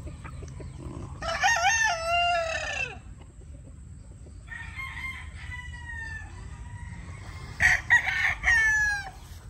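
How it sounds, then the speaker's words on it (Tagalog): Battle stag gamecocks on a farm crow in three separate bursts, close by and fairly loud, with quiet gaps of rural background between them. "Ito na yung mga battle stag."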